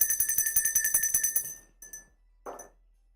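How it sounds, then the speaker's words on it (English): Liberty Bell ringing in a Philadelphia Eagles setting, a rapid run of bright metallic strikes with shimmering high overtones for about a second and a half, then a couple of fainter isolated chimes and a short final hit. "And the Liberty Bell."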